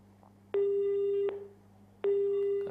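A telephone busy tone sounds after a call disconnects: two loud, steady electronic beeps, each under a second long, separated by a short silence, with no voices.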